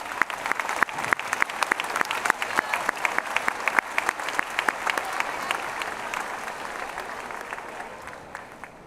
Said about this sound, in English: A round of applause for those students